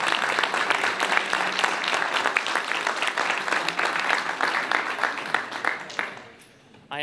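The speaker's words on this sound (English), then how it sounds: "How about giving yourselves a round of applause?" An audience at an emergency management accreditation ceremony gives a loud, dense round of applause that holds steady for several seconds before quickly fading out near the end.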